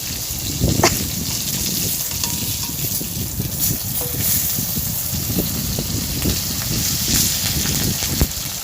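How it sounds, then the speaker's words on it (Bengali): Bata fish tails frying in hot oil, crisped until red: a dense, continuous sizzle close by, with soft knocks and bubbling pops throughout. "বাটা মাছের লেজাগুলো আমি ভালো করে কড়া করে লাল লাল করে ভেজে নেবো"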